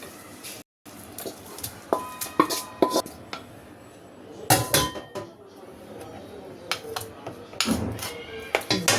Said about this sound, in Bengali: দিয়ে এটাকেও আমি ভালো করে এর সাথে ফেটিয়ে নিচ্ছি